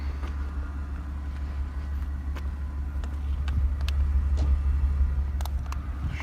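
A 2016 Audi SQ5 with a supercharged 3-liter V6, heard from inside while driving: a steady low engine and road rumble that swells slightly midway, with faint clicks over it.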